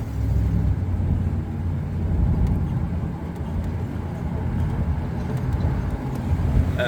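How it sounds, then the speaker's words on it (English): A 1962 Corvette barn find driving in second gear at about 15 mph, its engine giving a steady low rumble heard from inside the car. "So we're already into second gear there at about 15 miles an hour."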